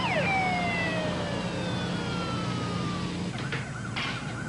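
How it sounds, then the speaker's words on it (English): Emergency vehicle sirens wail close by, a police-style siren sweeping downward in pitch before a second siren's bursts break in near the end, loud and continuous with no voices. "I heard all the sirens."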